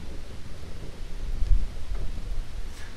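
Steady rain in the Boogeyman 2 video game, a soft continuous wash with low rumbling swells that sounds fairly close, with no voices present.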